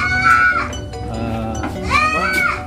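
Several goats at an urban goat farm in Jakarta bleat loudly and close by, two wavering, drawn-out calls separated by a short pause, with faint barn background noise.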